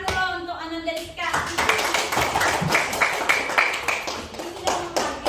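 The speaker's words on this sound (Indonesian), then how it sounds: "Tepuk tangan dulu untuk Ananda Rizka." A classroom of students claps for a classmate, a burst of quick, uneven hand claps starting after a teacher's brief words and continuing steadily close by.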